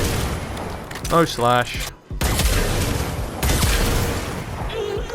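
Kuva Ogris weapon shots in the video game Warframe come as heavy booming blasts with explosive tails. A voice talks over part of the sequence, and there is a brief silent gap midway.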